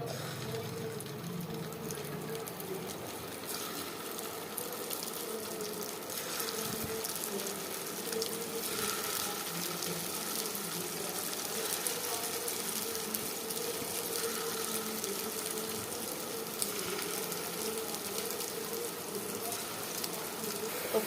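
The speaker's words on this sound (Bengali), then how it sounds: "এক এক করে কোপ্তাগুলো ভেজে নিব" Chicken and lentil koftas fry one by one in hot oil, giving a steady, close sizzle and crackle that holds evenly throughout with no talking.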